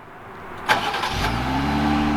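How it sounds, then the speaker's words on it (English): A 2020 Jeep Gladiator Rubicon 4x4 cold-starts with a sharp crank and catch, then settles into a steady, close idle. "This is a cold startup on a 2020 Jeep Gladiator Rubicon 4x4."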